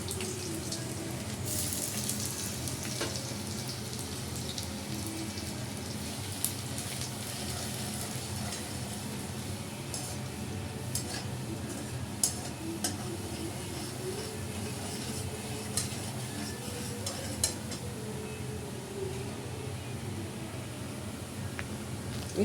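Chopped garlic frying in a hot pan for chilli chicken gives a steady, even sizzle that runs unbroken for over twenty seconds, with faint scattered crackles and no voices.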